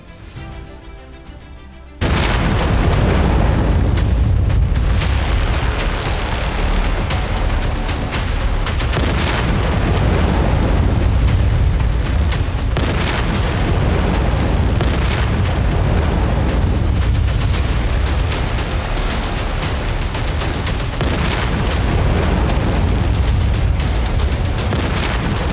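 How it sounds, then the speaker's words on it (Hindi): Bombs and artillery exploding over Gaza in war, a continuous loud roar of booms and blasts that starts abruptly after a quieter opening and keeps rolling with repeated heavy bursts. "गाजा के आसमान में बम गोला बारूद का महाजोर है।"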